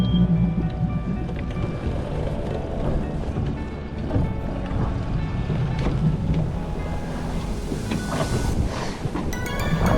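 A RIB boat out on open water near St Patrick's Island, its outboard engine running steadily under wind buffeting the microphone and the wash of water and waves, with no voices.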